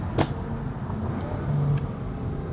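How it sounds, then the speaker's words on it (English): A BMW M8 Competition with Eventuri intakes and an Akrapovic cat-back exhaust drives along a road, giving a steady engine and turbo whoosh from inside the car with a faint whistle rising briefly. "you can really hear those turbochargers and those Eventuri intakes"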